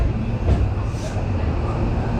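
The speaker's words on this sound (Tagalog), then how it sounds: "Ayan po yung tren." Continuous low rumble of a clean train in Osaka heading to Universal Studios Japan, a steady interior drone with no speech over it.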